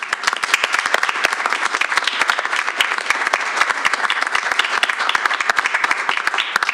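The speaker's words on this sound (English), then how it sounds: "Could we give a round of applause to Dr. Mandy Chappell?" Vigorous applause at a school board of education meeting, welcoming a newly introduced junior high principal; crisp, continuous clapping from a sizable room, loud and unbroken throughout.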